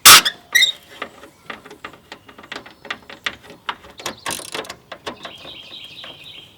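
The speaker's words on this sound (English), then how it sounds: "Now we need to remove some bolts up here." A ratchet wrench backs Torx bolts out of a car fender, a close, loud run of rapid clicking that rises and falls in bursts over several seconds, with no speech.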